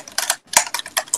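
Fast typing on a computer keyboard, close up: bursts of crisp key clicks in quick uneven clusters, with a brief pause near the start.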